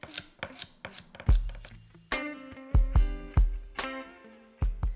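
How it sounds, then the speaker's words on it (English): Knife chopping celery on a cutting board for coleslaw, a series of sharp crisp thuds at an uneven rhythm, close and clear with no talking. "For the coleslaw, I'm also gonna chop up some celery"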